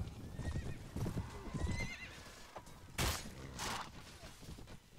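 Horse hooves clip-clopping and a horse neighing in the video game Mount & Blade Warband, with quick hoof beats, a rising whinny, and a couple of sharp cracks partway through.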